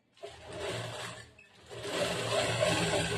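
Sewing machine stitching a lining fabric to the main cloth of a back-hook blouse, a close, steady whirring run that pauses briefly midway and resumes louder.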